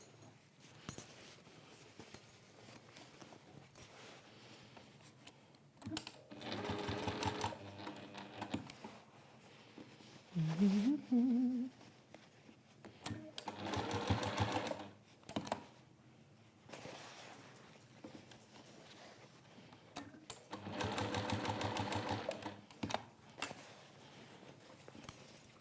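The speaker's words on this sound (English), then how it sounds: "Just sew in a square around there." A sewing machine stitches a lined origami bag in several separate bursts of rapid, whirring stitching, each a few seconds long, with quiet gaps and fabric handling between them.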